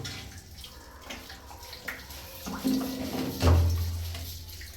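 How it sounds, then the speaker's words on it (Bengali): Water from a bucket poured into a rooftop drain pipe gurgles and splashes in a few uneven surges, growing louder toward the end with a deep rushing flow. "উপর থেকে একটু পানি ঢালো পাইপে"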